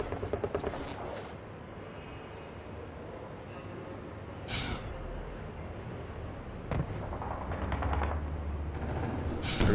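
Gunfire from a Half-Life 2 Deathmatch match, with rapid weapon fire and explosive blasts bursting repeatedly over a dense, rumbling background of game action.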